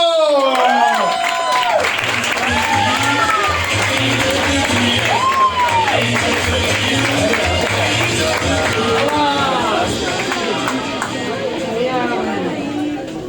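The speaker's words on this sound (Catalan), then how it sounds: "per rebre, amb un fortíssim aplaudiment, que s'ensorri el medi, per rebre a Marta Vallotbó!" A stand-up comedy crowd at El Medi greets comedian Marta Balletbò with loud, sustained clapping and some cheering, while voices and whoops rise and fall across the applause and a low musical beat pulses underneath.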